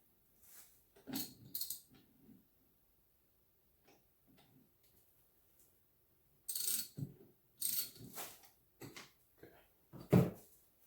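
A Honda ATC 250ES engine on a 1988 Big Red, opened up for a top end teardown, is turned over by hand. Scattered faint mechanical clicks and ticks come in irregular clusters with quiet gaps between them, close by and with no speech.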